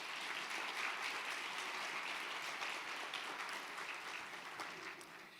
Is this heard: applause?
yes